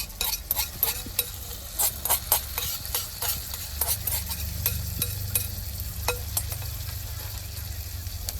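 Tomatoes are tipped into a hot frying pan for sevbahji and stirred, giving a steady sizzle under repeated scraping and clinking of a spoon against the pan, with a denser frying hiss building midway.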